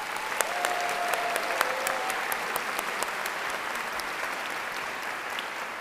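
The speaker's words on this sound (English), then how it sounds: "I'd like to acknowledge their great contribution to the university with a warm round of applause." Warm applause fills a university commencement ceremony in 2011, a crowd clapping steadily and evenly for several seconds with no voices over it.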